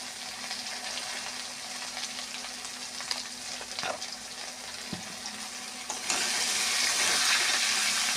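Fish heads sautéing in oil with turmeric and salt, a steady soft sizzle with occasional stirring scrapes, growing brighter and louder over the last couple of seconds.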